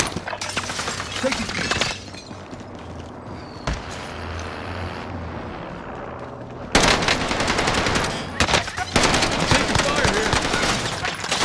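Video game gunfire in a firefight, with dense bursts of rapid automatic shots and sharp cracks, loud and close, easing off briefly in the middle before resuming heavily.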